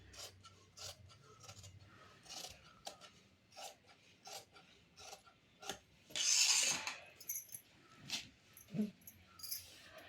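Scissors cut cloth for an eight-panel skirt in a tailoring session, making a busy run of close, crisp snips and rustling fabric scrapes. One louder burst of rubbing stands out partway through, and no one speaks.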